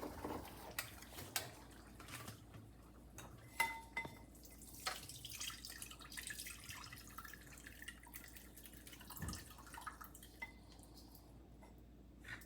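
Homemade aloe vera hair oil dripping through a strainer, quiet intermittent drips and faint liquid taps with occasional light clinks of a kitchen vessel, close and soft, with no talk.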